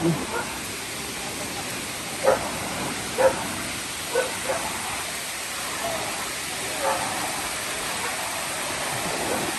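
Steady broadband rush of a fast-flowing flooded river fills the whole clip, water suddenly risen, with a few faint voices and brief knocks rising above the constant roar.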